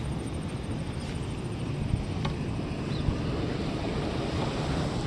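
Floodwater rushing through a stream channel during heavy monsoon rain, a steady broad roar of flowing water mixed with wind buffeting the microphone, continuous and fairly close with no talk.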